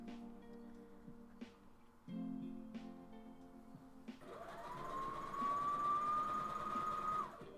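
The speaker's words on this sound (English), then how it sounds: "That is the sewing machine." A home sewing machine running in the background, low hums and faint ticks, then a rising whirring motor tone that holds for a few seconds, quiet and distant, no talk.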